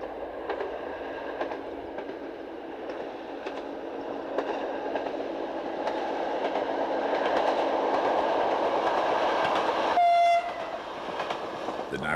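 A mainline train rolling along the railway near a station on a Mediterranean island, a steady rumbling drone with rhythmic wheel clatter building, then a brief loud horn blast near the end.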